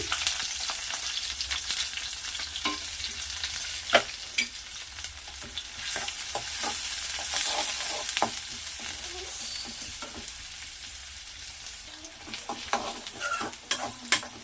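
Chopped onions fry in about two tablespoons of hot oil, a constant close sizzle broken by frequent scraping and clinking stirring strokes, with no talking over it.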